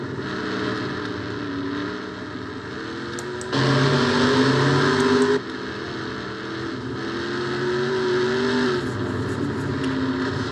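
Off-road race cars roaring around a one-mile dirt track during a heat race, a steady loud engine drone with a nearer car swelling past and engines revving higher toward the end.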